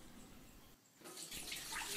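Water draining from a kitchen sink after washing up in an off-grid container home, a steady rush that grows louder and brighter toward the end, with no voices.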